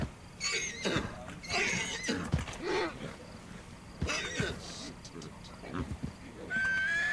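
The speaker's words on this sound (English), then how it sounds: "if you catch a horse in Red Dead Redemption 2, it's a waste of time" A horse in Red Dead Redemption 2 whinnies and snorts in several bursts, with hoof clops mixed in, while someone talks over the game sounds.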